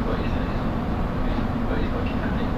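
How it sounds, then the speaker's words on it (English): A London Underground Metropolitan Line all-stations train running between Northwick Park and Preston Road, a steady loud rumble and rolling drone throughout with no break. "This is an all-stations Metropolitan Line train to Aldgate."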